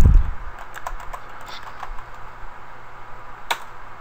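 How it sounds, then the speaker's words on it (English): Rapid, irregular keystrokes tap on a computer keyboard close by, light clicks scattered across a few seconds with one sharper key strike near the end, no voices. "you start typing it"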